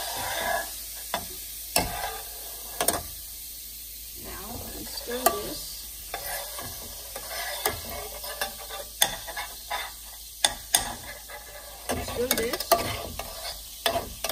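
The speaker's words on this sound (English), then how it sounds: "So now we pour this into here and we start stirring." A sodium acetate heat pack mixture being stirred in a container, giving a steady run of light scraping and clinking strokes with sharp taps scattered throughout, close and fairly quiet, with no talking.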